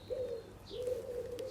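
A dove or pigeon coos outdoors on a still, cold day, two drawn-out low coos separated by a short pause, fairly close and clear over faint background hiss, with a few small chirps high above.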